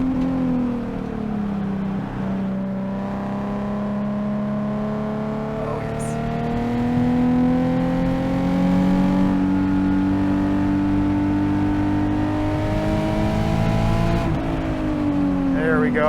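A bolt-on Nissan 370Z at speed on a race track, its engine droning steadily and loud with rising and falling pitch through gear changes, a sustained close in-car roar across the whole stretch.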